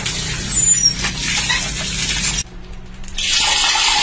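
Water flowing steadily from a water pump (poso) just after its leak was fixed, a continuous splashing hiss that drops briefly mid-clip before resuming strongly.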